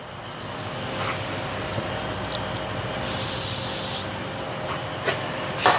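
Two bursts of hissing spray onto the outside of a bucket truck's leveling cylinder tube, each lasting about a second, sound close by, separated by a pause with faint clinks and taps in between.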